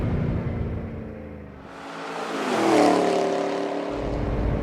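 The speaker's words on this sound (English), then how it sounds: "A nice V8 soundtrack the whole way" A 2013 Chevrolet Camaro SS 1LE V8 engine revs up and accelerates, a loud rising roar that swells near the middle and then settles into a steady, throaty drone.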